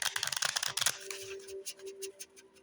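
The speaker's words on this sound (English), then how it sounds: "I don't know why I feel the need to blow and shuffle it one more time." Tarot card deck shuffled by hand in a quiet room, a quick flurry of crisp, close riffles and taps lasting about a second, then faint soft card handling with a low steady hum.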